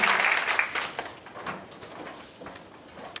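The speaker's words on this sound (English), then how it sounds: "Please give them a big applause." Audience applause at a live staged reading event, a dense burst of clapping that starts loud and gradually thins and fades over a few seconds, with no voices over it.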